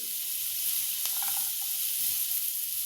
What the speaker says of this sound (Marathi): आलं आता हे सगळ्याला एकत्र आपण छान परतून घेऊया बटरमध्ये